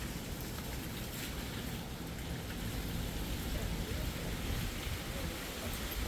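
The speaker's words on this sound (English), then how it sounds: "Rain and wind." Rain and gusting wind during a severe Utah thunderstorm, a steady broadband hiss of downpour with buffeting low-end roar, continuous and fairly loud with no pauses.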